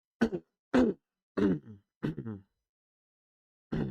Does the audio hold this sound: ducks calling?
no